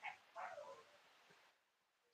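Several dogs bark nearby in quick yelping bursts that fade, faint and somewhat distant against a quiet background.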